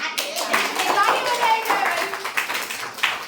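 A classroom of children clapping their hands together in a dense, sustained round of applause, close and lively, with some voices mixed in beneath the claps.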